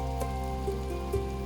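Steady rain falls on a forest during a storm, a soft continuous patter with a few faint drips standing out over a low, even background hum.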